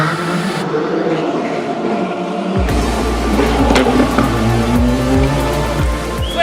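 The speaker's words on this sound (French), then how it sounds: "aux voitures qui passent" Rally cars race by on a gravel road at a Cevennes rally club event, engines roaring and revving loudly as they approach and pass close by, with some crowd noise around.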